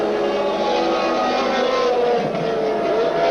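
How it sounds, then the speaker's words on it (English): A Ferrari T4 Formula One car's engine races at the South African Grand Prix at Kyalami, a loud, steady high-revving roar sustained throughout without pause. "Villeneuve, T4 Ferrari, it's this car's first race"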